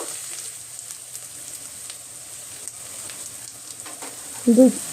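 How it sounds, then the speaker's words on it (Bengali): Steady, fairly quiet sizzling of chopped onions frying in oil with whole spices and bay leaves runs throughout, with a brief louder clatter near the end. "চপ করা পেঁয়াজ দিয়ে দেবো"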